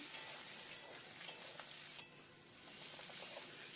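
Chopped onion and a green chili frying in a pan for a jackfruit curry, with a soft continuous sizzle and light scrapes of a spatula stirring at intervals, fairly quiet and close.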